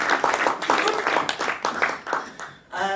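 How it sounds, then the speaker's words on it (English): An audience at a stand-up comedy event applauds in a brief, lively burst of clapping that lasts under three seconds, followed by a voice speaking. "a round of applause for Heidi and the people who put this on today"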